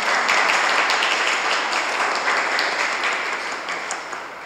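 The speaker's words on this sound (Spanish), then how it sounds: "Un aplauso aquí" An audience welcomes a guest artist at a talk with a burst of applause, dense clapping starting strong and gradually fading over a few seconds.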